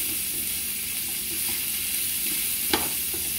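Chopped onions fry in a pan while being stirred, giving a steady close sizzle with a sharper scrape of the utensil near the end and no voices.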